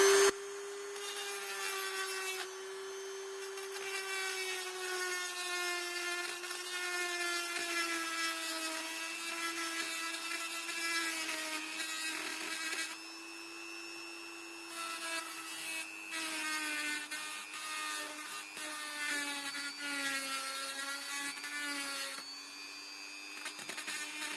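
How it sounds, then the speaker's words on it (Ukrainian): A small rotary tool hums with a steady high whine as it bores through holes in a workpiece, running continuously near the listener with slight shifts in pitch and brief dips. "беремо бормашинку і бормашинкою проходимося по всіх отворах"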